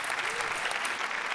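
A studio audience at a Marathi comedy show breaks into loud, dense applause that fills the room evenly from start to finish, with some voices mixed in.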